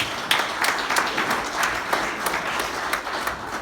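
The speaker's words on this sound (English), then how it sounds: "Give PJ Moore and Aidan Dwyer a huge big round of applause." Audience applause for two club championship players at a Cavan GAA county championship draw, a steady wash of many hands clapping indoors, sustained and even throughout.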